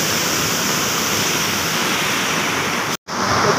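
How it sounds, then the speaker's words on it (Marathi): A river waterfall in heavy monsoon flow gives a steady, loud broadband rush of water, continuous and close, with one brief dropout near the end and no voices. "हे बघा कुठून कुठून पाणी येतंय बघा"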